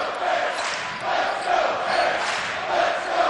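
A good-sized crowd murmurs and roars in a college basketball arena, the Hammons Student Center, a continuous swelling din of voices and cheers during a game between Bradley and Missouri State.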